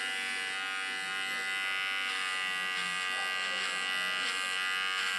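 An electric hair clipper held flat against a man's head buzzes steadily as it cuts his hair, a continuous close, even drone with no talk.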